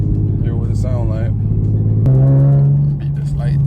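An Infiniti G37 with an aftermarket exhaust revs loudly up close, its deep droning engine note shifting pitch partway through, while a person talks over the engine.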